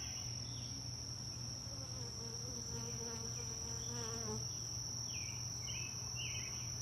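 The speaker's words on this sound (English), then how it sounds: "this is my busy hive" Honey bees from a busy backyard hive, its frames holding honey and brood, drone in a steady close buzz, with a constant high insect whine running through.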